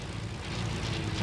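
An airplane in Fortnite drones with a low, steady engine hum, a brief continuous roar without other sounds.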